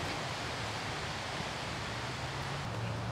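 Strong wind blows across an outdoor disc golf course as a steady, broad rushing roar with a low rumble underneath, constant throughout, and no voices.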